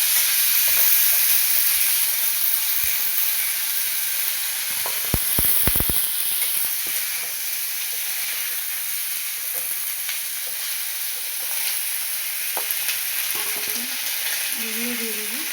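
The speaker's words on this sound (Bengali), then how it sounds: "ফুলকপিগুলো ভেজে নেব।" Cauliflower florets frying in hot oil give a steady, close sizzle with a bright hiss throughout and brief clinks of stirring near the middle, with no talk.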